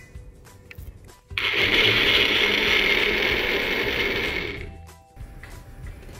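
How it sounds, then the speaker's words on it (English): A blender purees tomatoes, starting abruptly with a loud, steady high-pitched whir that runs for roughly three seconds before winding down and stopping, with quieter kitchen noise before and after. "I'm going to use half of the tomatoes and puree it in my blender"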